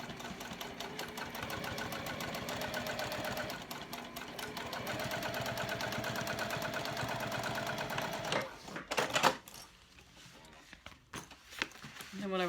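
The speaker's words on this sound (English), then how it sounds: "All right, I'm going to go sew this." A sewing machine stitches a mini backpack with a quarter-inch seam allowance, buzzing steadily for about eight seconds before stopping, followed by a few scattered clicks and handling noises.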